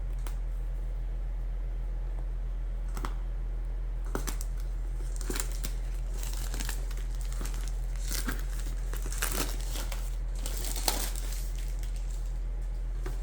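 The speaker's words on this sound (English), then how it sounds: "Let's go ahead and take the cellophane off." Cellophane wrapping is peeled and crinkled off the retail box of a Specta Mini drone, giving scattered sharp crackles and rustles over a steady low electrical hum, fairly close and with no talking.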